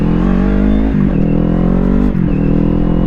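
A 2025 Kawasaki Ninja 500 motorcycle pulls hard on a rough road, its engine a loud, close, continuous drone that holds steady with two brief dips as the rider shifts and keeps accelerating.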